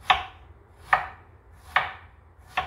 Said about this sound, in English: I'm just gonna slice the strawberry up, guys.